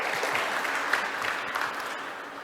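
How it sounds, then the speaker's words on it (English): Audience applause at a keynote talk on machine tools, a steady mid-level patter of many hands clapping for a couple of seconds, slightly fading toward the end, with no voices. "Yeah, you can clap. It's okay."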